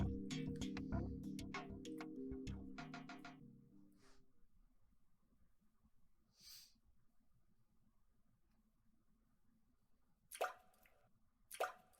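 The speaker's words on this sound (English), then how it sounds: "Drip. Drip. The sound of falling drops." Water drops falling in a quiet night scene: a quick run of sharp, close plops, then near silence broken by a few isolated drips near the end.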